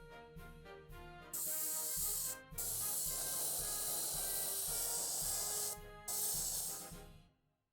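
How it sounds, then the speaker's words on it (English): An airbrush sprays primer onto a WWII American miniature figure, a close, steady hiss of air in two long bursts with a short break between, preceded by quick clicking pulses and a low rhythmic compressor thump underneath. "But I just prefer the airbrush."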